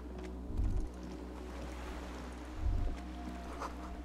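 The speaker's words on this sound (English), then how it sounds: "The skiff is swaying on the waves by the rock." A skiff sways on waves in the game Disco Elysium, giving a steady wash of water and a low hum, with two soft low thumps of the hull rocking.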